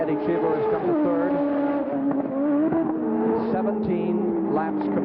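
Formula One cars at the 1984 Detroit Grand Prix street circuit pass through the chicane, engines loud and continuous with pitch swings as they brake and accelerate, under steady commentary.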